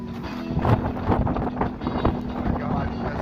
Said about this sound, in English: It's freezing. It's windy.